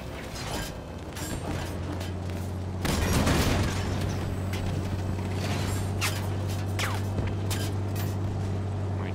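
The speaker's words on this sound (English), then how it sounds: "Oh my god, stop shooting me." Gunfire in Halo 5: Guardians multiplayer, a dense mechanical rattle of shots and clanks over a steady low hum, with a louder burst about a third of the way in and no talking.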